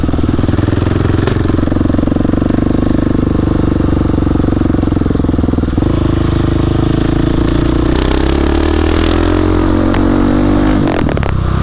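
A Husqvarna 701 motorcycle engine drones steadily throughout while riding, loud and close, with shifts in pitch and a brief clatter near the end.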